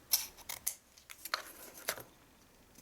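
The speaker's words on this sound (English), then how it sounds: "now I'm going to get my scissors and I'm just going to cut this down" Scissors snip through paper several times while a treat box bottle holder is trimmed to width, with sharp, brief crisp cuts in an irregular rhythm, close and moderately quiet, with no talking.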